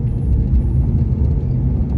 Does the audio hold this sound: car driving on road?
yes